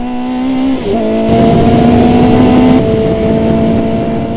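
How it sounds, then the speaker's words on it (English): Formula Super Vee race car downshifting on a track, its loud steady engine note dropping sharply and then climbing and holding as the driver shifts down through the gears, close and onboard. "I downshift into 4th and down into 3rd, and it's 2nd gear here, all the way around"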